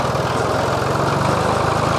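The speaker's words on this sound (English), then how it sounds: "This is actually a new tractor of his. He's about to fire it up" A new farm tractor's engine idles nearby with a loud, steady low throb and a fast regular pulse, with no talking.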